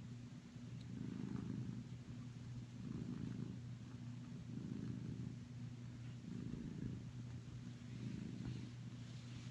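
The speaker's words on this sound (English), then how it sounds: "Yes, she's always purring." A cat purrs close by, a low rumbling purr swelling and fading in slow, regular cycles, with no other sounds.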